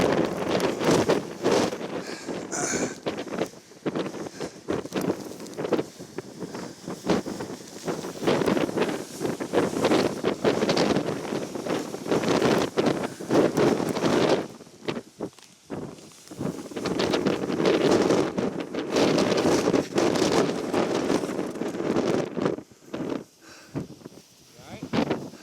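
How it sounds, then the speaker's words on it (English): Strong, gusting wind batters the microphone at a winter camp in snow, roaring in long surges with brief lulls throughout. "It was very windy and cold."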